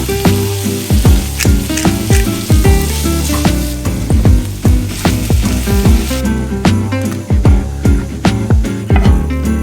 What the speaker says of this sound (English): I'm gonna make some tofu scramble, which is something I normally make, but instead of just tofu, I'm gonna add onions, spinach,